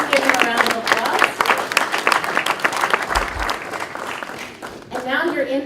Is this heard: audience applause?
yes